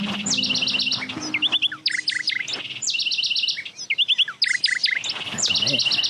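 Bird chirps from the video game Sonar Islands repeat in quick bursts of high, bright tweets, close and clear, alternating with short pauses; a low hum runs under the first part.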